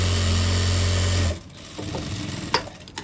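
A sewing machine stitches along the edge of a pant pocket, running as a fast, steady whir for over a second before stopping, followed by faint handling clicks of the fabric.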